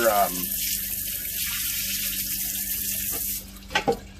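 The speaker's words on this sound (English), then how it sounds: "I have a sink outside, so I can just get this real quick." Water gushes steadily from an outdoor sink tap while an aluminum wheel is rinsed, a loud continuous hiss that cuts off near the end, followed by a couple of brief splashes or knocks.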